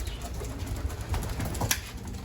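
Racing pigeons in a breeding loft coo steadily in low, soft pulses, with a faint flutter and shuffling in the background; no one speaks.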